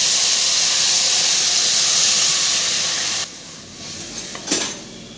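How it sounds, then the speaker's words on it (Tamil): Fish curry gravy poured into a hot pan of sautéed onions gives a loud, steady steam hiss and sizzle that drops off abruptly after a few seconds into a quieter bubbling with a brief flare of sizzle. "பொரிச்ச மீன் குழம்புக்கு குழம்பு கூட்டி ஊற்றிட்டேன்"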